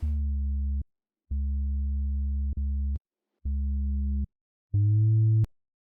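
Deep synthesized bass notes from Serum with a hyperdimension effect, played in a short sequence of sustained tones separated by silences, with a smooth, widened character; the last note sits higher.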